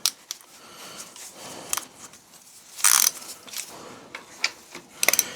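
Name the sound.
socket ratchet loosening a 9/16 bolt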